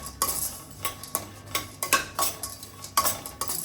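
Raisins being fried in a pan for a laddoo, with repeated scraping and stirring clinks of a utensil against the pan in an irregular rhythm and only a faint sizzle beneath.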